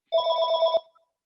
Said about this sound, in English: a phone ringing.